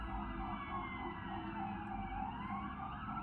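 Fire engine siren wailing at a distance, a faint rising and falling tone drifting over low traffic rumble, steady for a few seconds with no talking.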